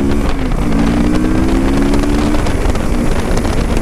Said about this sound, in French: On va se faire un petit 0 à 100.